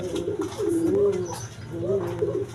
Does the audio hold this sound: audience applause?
no